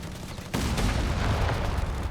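A 6-pounder anti-tank gun firing in the strategy video game Company of Heroes 3: a sudden loud boom followed by a dense, rumbling battle roar of shots and blasts.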